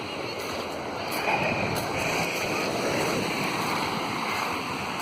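Mediterranean sea surf on a beach near Alanya, Turkey, a steady broadband wash of waves with a swell in the middle and some wind noise on the microphone, continuous throughout.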